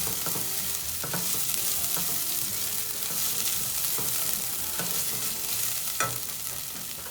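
Garlic cloves and onions sweating in a frying pan, a loud continuous sizzle with occasional stirring scrapes and light clicks throughout.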